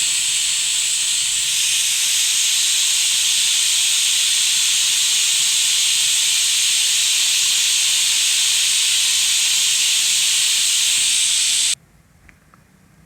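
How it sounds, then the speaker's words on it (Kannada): A pressure cooker on the stove cooking spicy pongal vents steam in a loud, steady, unbroken hiss for about twelve seconds, then it stops abruptly and leaves near silence. "ಇದನ್ನು ಕ್ಲೋಸ್ ಮಾಡಿ ನಾವು ನಾಲ್ಕು ನಾಲ್ಕರಿಂದ ಐದು ವಿಷಲ್ ಕೂಗಿಸ್ಕೋಬೇಕಾಗುತ್ತೆ"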